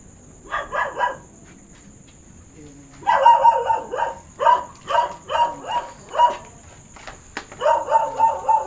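A dog barks in short repeated bursts around an old ancestral house, several rhythmic volleys at moderate distance with a pause between the first burst and the rest, no talking heard.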